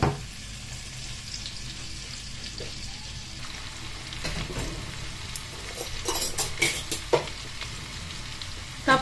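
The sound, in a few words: onion being sautéed in a pan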